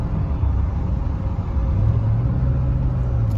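A truck cruises along Highway 17, giving a steady low engine and road rumble with constant tire noise, close and continuous, with no voices.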